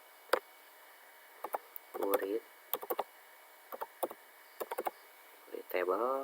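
Quick bursts of key presses on a computer keyboard, clustered into short runs with pauses between, fairly close and moderately quiet, with a few brief voiced sounds in between.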